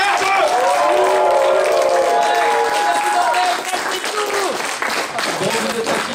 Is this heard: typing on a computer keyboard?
no